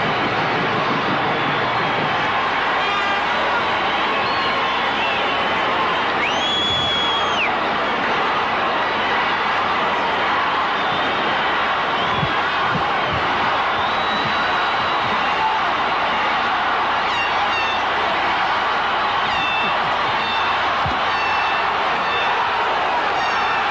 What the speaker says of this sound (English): This crowd is really reacting.